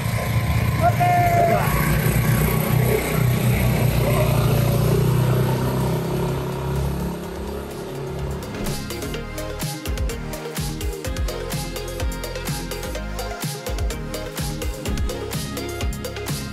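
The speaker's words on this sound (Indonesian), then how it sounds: "Naik motor." A motorbike engine running during a ride gives a continuous low, buzzing rumble. It is steady at first, then rougher and more uneven, with people talking over it.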